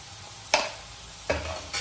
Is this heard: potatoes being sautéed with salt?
yes